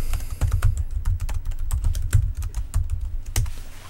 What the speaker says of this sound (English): So if I type in my name